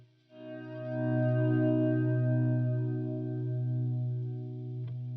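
A sustained electric guitar chord from a song rings out with a swirling flanger and trailing delay echoes, steady for several seconds before a soft pluck near the end.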